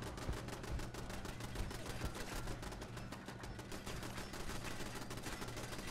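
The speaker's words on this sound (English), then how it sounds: "it's shooting all his stuff. My turrets are messing up everything he placed" Rapid turret fire in the Fallout 76 video game, a dense, continuous stream of fast gunshots rattling steadily at moderate distance for the whole stretch.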